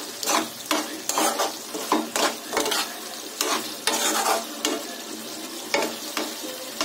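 Mutton tilli fry with coriander and mint is stirred in a pan, a rhythmic series of scraping strokes over a continuous sizzle, close and fairly loud.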